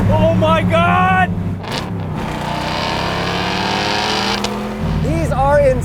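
Two Ford Mustang Shelby GT350s, a 2020 GT350R and a 1965 original, revving hard in sharp rising bursts with a sustained high engine whine between, close by, with a person speaking over them.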